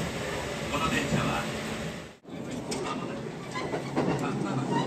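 A Kintetsu limited express train, an Aoniyoshi or Hinotori service, runs toward Kintetsu Tambabashi station, heard from inside as a steady broadband rumble and rattle with a brief drop in level midway.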